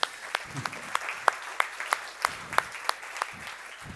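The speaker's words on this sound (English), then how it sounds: "just a big round of applause for our guy Ryan, please." Applause from an audience at a gala dinner with an inspirational speaker: a few distinct, sparse claps ring out in a loose rhythm over a quiet room, fairly close, with no talking.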